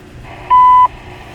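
A single clean electronic tone, loud and steady for about a third of a second, over faint background hum, from a CN railway trackside hotbox detector at mile 215, Napadogan.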